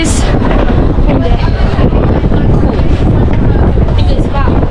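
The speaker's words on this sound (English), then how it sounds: "Very windy up here, but not as cold as I thought it would be." Strong wind roars and buffets steadily across the upper deck of the cruise ship MSC Virtuosa, a dense, loud rushing noise with no pauses.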